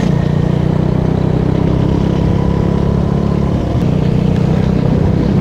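A motorcycle cruises steadily along a village road in Tamil Nadu during an Independence Day flag ride, its engine droning loud and close with constant wind rush and no let-up.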